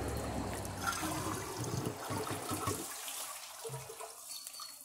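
A Kohler Class 5 or Toto Drake toilet tank refills after a flush. Rushing water runs for a few seconds, then thins to a quiet trickle and faint dribbles.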